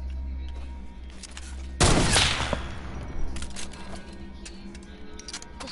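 Gunfire in a first-person shooter video game, aimed at an orb on top of a crystal. One loud close burst of shots lasts about a second over steady game background noise, followed by fainter clicks.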